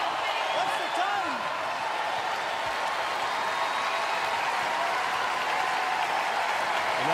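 Dense crowd cheering and applauding at the CrossFit Games men's final heat, a steady wall of noise through the whole stretch.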